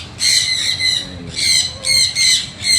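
A macaw at a park lets out a series of loud, harsh squawks in repeated bursts, close by, with low background rumble and no talking.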